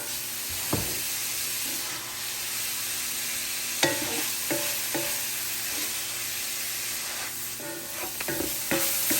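Drained hamburger meat sizzling and crackling in a frying pan over low heat, a steady close hiss broken by scattered sharp pops and a few stirring scrapes, no talking.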